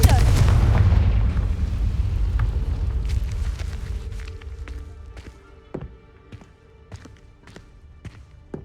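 A Confringo blasting spell in Hogwarts Legacy erupts in a loud close boom that rumbles and fades over a few seconds, followed by scattered footsteps and light clattering impacts.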